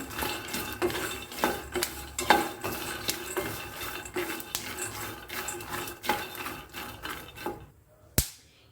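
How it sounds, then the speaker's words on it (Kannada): Chutney powder ingredients dry-roasting in a pan over a low flame, giving a steady busy crackle with scattered sharp pops and occasional clinks of a stirring utensil, close and moderately loud, ending in a brief quiet with one last pop. "ಚಟ್ ಬಟ್ ಅಂತ ಸೌಂಡ್ ಬರ್ತಾ ಇದೆ ಕೇಳಿಸ್ತಾ ಇದೆ ಅನ್ಕೊತಿದ್ದೀನಿ"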